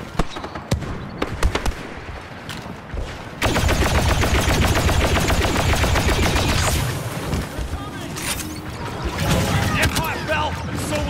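Star Wars Battlefront II battle: rapid autogun fire rattles in dense continuous bursts after a few scattered shots, loud and close, with game voice lines over the shooting.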